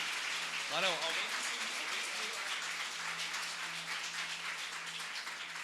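A church congregation applauds in a steady, even patter of many hands, heard at moderate distance, with a brief voice rising over it early on.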